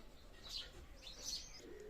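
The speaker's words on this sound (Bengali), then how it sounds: "আমি একজোড়া টেডি কবুতর দেখাচ্ছি" A pair of Teddy pigeons coo softly and twitter in a loft, with a couple of brief bright chirps and faint wing shuffles over low background hum; no one speaks.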